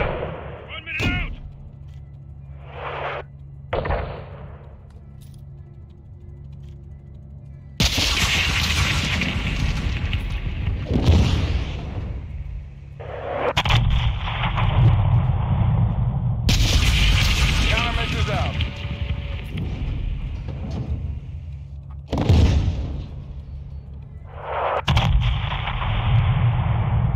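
Gunfire and booming artillery from the Modern Warfare 2 campaign, with loud bursts of shots and heavy blasts alternating with quieter gaps, dense and close throughout, while voices talk between the explosions.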